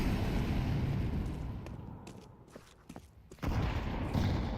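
Grenades go off in a Counter-Strike match: dense, crackling roars of blasts and gunfire that fade into a brief lull of scattered pops, then another loud burst erupts and holds.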